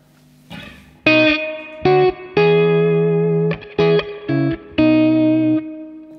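A clean electric guitar through a Matchless tube amp plays a series of sustained chords and single notes, bright and undistorted, with short pauses between strums.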